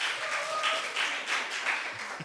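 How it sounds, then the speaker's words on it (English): An audience at a book festival session breaks into brief, moderate applause, a soft wash of clapping from a roomful of people that swells and tapers over a couple of seconds. "Not sure what everybody's applauding."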